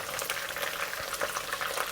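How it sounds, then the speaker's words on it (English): A batch of chicken fries in hot oil in a pan, a dense, steady crackle and bubbling sizzle running close and continuous for a couple of seconds. "We'll remove them from the oil and continue to fry our second batch."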